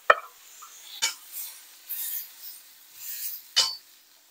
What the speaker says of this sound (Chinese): 就锅里面的包菜上面翻炒一下。